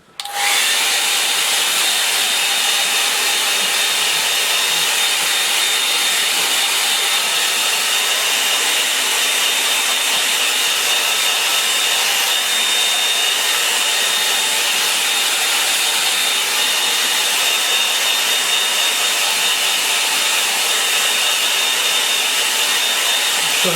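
A hair dryer dries a wet watercolour painting, blowing a steady, loud, unbroken hiss for the full stretch, with no voices.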